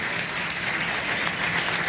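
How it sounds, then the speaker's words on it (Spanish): Audience applause at a gathering of the Colombian community in Venezuela, a steady dense wash of many hands clapping, fairly loud and continuous with no speech over it. "Un aplauso."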